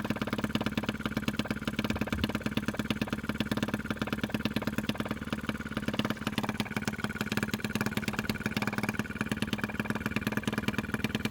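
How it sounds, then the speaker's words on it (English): An OKMO-Retrol model of a Lister D engine runs at a steady, even pace throughout, its dense mechanical chugging loud and close with no voices. "Now to turn it off, you can close the throttle down to stop the fuel coming in"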